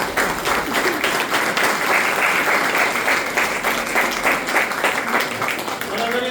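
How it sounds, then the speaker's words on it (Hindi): Sustained, loud audience applause at a network-marketing seminar, dense clapping running steadily throughout with crowd noise beneath. "ताली बजा के ऊपर जोरदार"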